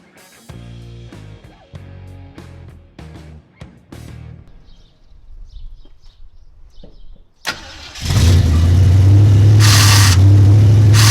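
A 1968 Ford Ranchero is cranked and fires up after scattered workshop clatter and knocks, its V8 then idling loud and close, with power steering being worked as the wheel is turned.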